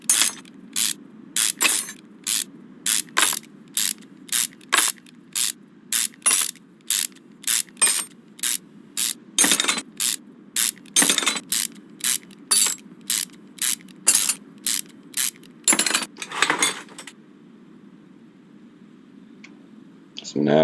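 Tools remove an engine cap in the game Car Mechanic Simulator 2021: a long series of sharp, evenly spaced ratchet clicks over a low mechanical hum, loud and close, slowing and stopping near the end.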